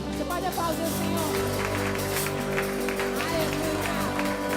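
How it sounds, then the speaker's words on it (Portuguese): A church congregation claps during a service, a steady wash of applause over a sustained musical background with some voices, continuing evenly. "Você pode aplaudir o Senhor."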